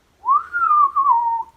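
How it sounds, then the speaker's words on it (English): A person whistles one sustained, gently wavering tone that slides down slightly, broken by a short gap into two close, clear phrases over near silence. "I can then I can whistle."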